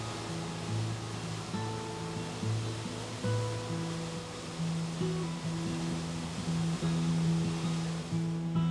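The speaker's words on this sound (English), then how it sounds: "Mud Creek is a waterfall impressive in overall stature and in its small details." Mud Creek waterfall in the Southern Appalachian backcountry, a steady, broad rush of falling water that stays even and continuous throughout, with no voices.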